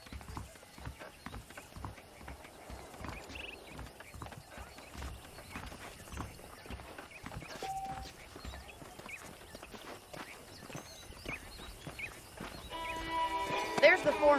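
Horses' hooves clip-clop in the Red Dead Redemption video game, a steady walking rhythm of soft knocks under ongoing talk, with a brief whinny and louder ambient clatter near the end.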